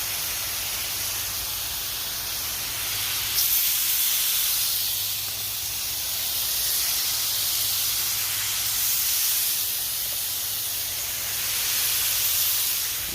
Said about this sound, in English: We're cooking these on a nice little skillet here